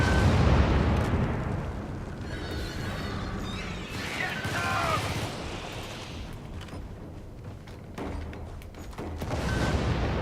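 Artillery barrage in Helldivers, a string of heavy rumbling explosions and crashing blasts rolling over about ten seconds, loud near the start and end, with brief voice chatter.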